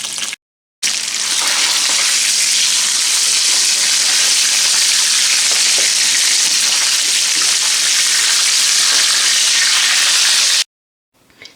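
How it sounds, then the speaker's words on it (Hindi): Fish pieces fry in hot oil for a masala fish curry, a loud, dense, continuous sizzle that fills the whole stretch without pause before cutting out abruptly, with no talking. "बाकी फ़िश को भी फ्राई कर लेते हैं"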